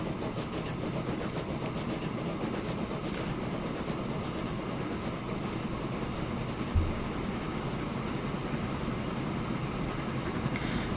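An oil train of six black tank cars rolls along the rails in the Transport Fever game, a steady dense rumble and rattle of wagons that holds level for the whole stretch with no talk.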